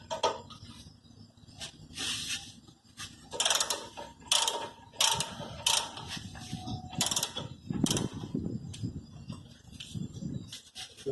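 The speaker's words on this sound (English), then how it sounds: "To open these two bolts, we need a 17 mm socket." A 17 mm socket wrench ratchets on the caliper bolts of a Hyundai i10 disc brake, with short bursts of clicking that start and stop irregularly, close and moderately loud.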